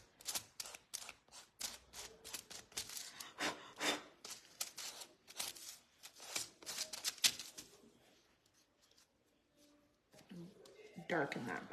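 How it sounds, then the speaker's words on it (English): A craft gnome's beard is sanded by hand in quick, rasping scrubbing strokes that run in a fast rhythm, then pause before a final burst, close by with no talking. "And I'm just sanding down the beard."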